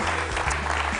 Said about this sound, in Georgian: გავაცილოთ აპლოდისმენტები